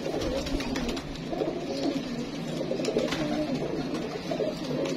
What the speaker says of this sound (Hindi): ये कबूतर है माशाल्लाह